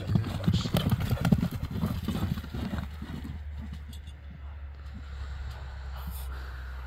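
A running horse's hooves clip-clop in a quick, loud, close rhythm that fades after a few seconds, with people talking over it.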